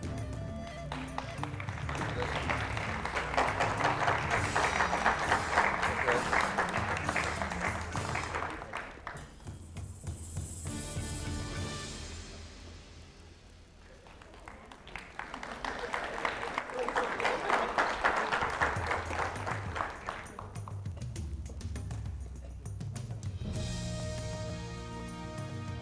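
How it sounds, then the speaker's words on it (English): Two waves of dense applause from a crowd at a university quiz prize-giving swell up and die away, separated by a quieter lull with some movement and thumps. "Another round of applause"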